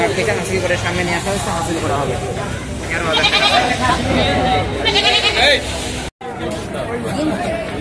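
Goats bleat repeatedly amid a crowded cattle market at Gabtoli, their cries rising over loud chatter and a babble of many voices close by.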